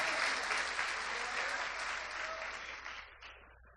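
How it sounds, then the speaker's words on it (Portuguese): A congregation applauding during a church broadcast, a dense, continuous wash of clapping from many hands that gradually fades out toward the end, moderately distant. "Você pode aplaudir o Senhor nosso Deus."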